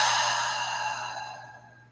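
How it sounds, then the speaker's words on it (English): During a yoga breathing exercise, one long, slow exhale of air, steady at first and tapering off gently over about two seconds, with a faint low hum underneath. "Go real slow, inhaling, and exhaling it out."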